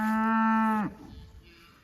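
A single long, loud cow moo from a grassy pasture, steady and strong before breaking off, followed by quiet outdoor background.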